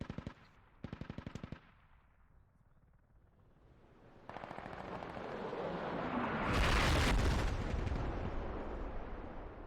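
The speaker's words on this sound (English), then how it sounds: "Oh shit, they're artillery." Artillery strikes land in the online military shooter Squad, with rapid automatic gunfire early on and then a swelling roar of heavy explosions that peaks in a loud blast and rumbles on to the end.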